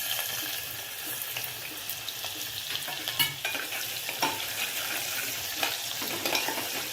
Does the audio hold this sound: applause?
no